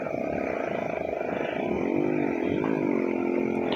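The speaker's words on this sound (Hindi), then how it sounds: "दूर से बाइक जो है ना उसका शोर ज़्यादा आ रहा होगा माइक में" A distant motorbike engine drones steadily and continuously from afar, its harmonic whine rising and bending in pitch partway through, with no voices.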